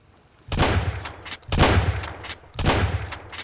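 Shotgun blasts from the survival video game SunkenLand: three loud, close booming shots spaced about a second apart, each with a sharp crack and a short echoing tail.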